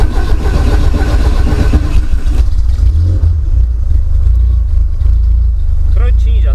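A VW Gol Turbo engine cranking over without firing, injectors and coil disconnected, churning in a loud, continuous rhythm while someone talks over it.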